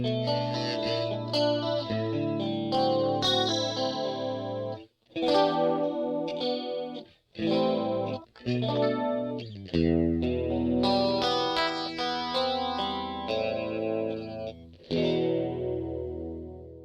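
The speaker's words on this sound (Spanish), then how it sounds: "Lo que acaban de escuchar es la guitarra Signature de los 80s" Electric guitar played through a Rockman effects rack with a signature 1980s tone: a chorused, compressed, lightly distorted sound with chords and lead phrases in bursts, each broken by short pauses, played alone and close.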